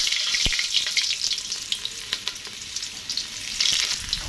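Garlic frying in a pan of hot oil, a loud, close, continuous sizzle with stirring scrapes and small pops, no talking.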